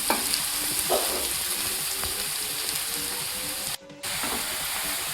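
Grated carrots for gajar halwa tossed into a hot pan and stirred while roasting, giving a steady soft sizzle with scraping, clicking stirs and a brief drop-out near the end.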